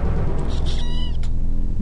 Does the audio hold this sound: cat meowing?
yes